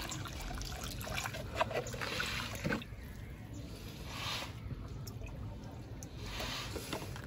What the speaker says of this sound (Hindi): अब इसमें पौधे में पानी डाल देता हूँ